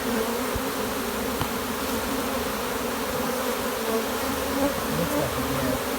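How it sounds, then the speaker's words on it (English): A honeybee swarm drones in a dense, continuous buzz up close as the bees crawl into a hive box, steady and loud throughout. "the bees are working their way in"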